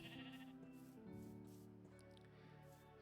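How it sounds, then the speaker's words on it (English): A white sheep in a Viking video game gives wavering bleats that repeat across the few seconds, clear and close, with no one talking. "Oh, you are a white sheep."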